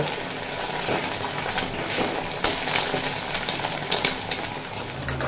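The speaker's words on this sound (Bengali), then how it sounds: "দিয়ে ডিমটা খুচরো ভাজা করে নেব" Beaten egg poured into hot oil and fried into scrambled pieces for a bottle gourd and egg curry, giving a steady, close sizzling hiss with a few sharper crackles and no talking.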